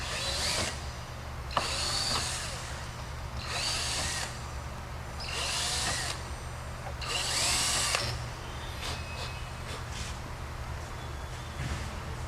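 A power drill with a 3/16 bit cleans up rivet holes in a fuel tank retrofit, running in five distinct high-pitched whining bursts of about a second each, separated by brief pauses, close and clear.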